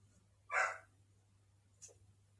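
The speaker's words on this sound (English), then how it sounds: "I got to get him to take the dog out because y'all hear her barking" A dog indoors gives one short, sharp bark followed a moment later by a fainter second yelp, alone against a low steady hum.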